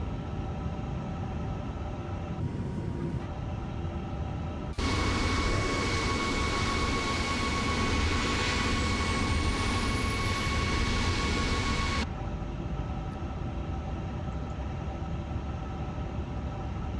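An Airbus A350 jet engine spools up in a flight simulator game, a loud steady roar with rising whine that starts abruptly, holds for several seconds, then cuts back to a lower cockpit hum.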